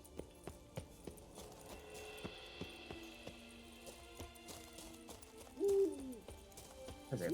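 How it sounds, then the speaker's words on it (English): An owl hoots repeatedly in a Witcher 3 forest amid game ambience and footstep-like clops, with a louder call near the end standing out from the steady background. "There's a loud owl."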